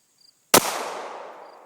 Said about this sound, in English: Shooting a 45 XDM